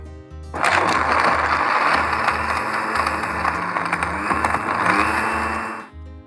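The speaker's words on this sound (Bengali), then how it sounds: "আমরা এখন এটিকে ব্লেন্ড করে নিচ্ছি।" A kitchen blender whirs loud and close as it blends a saffron sherbet drink, one continuous roaring run of several seconds that starts abruptly and fades out at the end, with a low rhythmic thump underneath.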